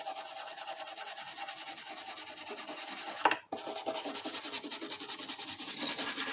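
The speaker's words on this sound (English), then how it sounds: "Let's give it a nice scrubbing." Steady rhythmic rubbing strokes as a dirty Hondo 2 classical guitar is scrubbed, a close repetitive rasping scrub with a brief pause midway before the strokes resume.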